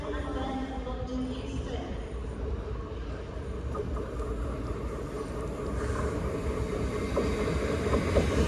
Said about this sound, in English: now arriving into platform 2 is the 11:32 Avanti West Coast service to London Euston